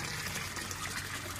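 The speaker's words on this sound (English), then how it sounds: "That's the fourth gutter grow bed flushing." Water rushes steadily out of a gutter grow bed in a cascading flood-and-drain setup, a continuous close gushing flow with no break.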